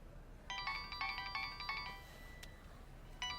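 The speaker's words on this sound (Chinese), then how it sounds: "我接个电话" A phone ringtone plays in repeated short bursts of bright electronic tones, a brief pause, then starts again, moderately loud with no talking over it.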